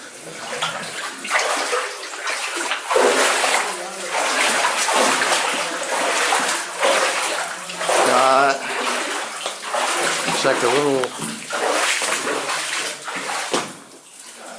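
Water sloshes and splashes as someone wades through a flooded underground gold mine, close and irregular with surges and trickles, while someone talks over it.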